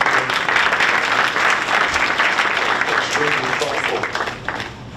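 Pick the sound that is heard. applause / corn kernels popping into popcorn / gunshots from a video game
applause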